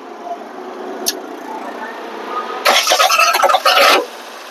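A car engine is cranked to start during a spark plug check at a driving school in Sylhet, giving a short, harsh burst of cranking noise after a stretch of quiet background.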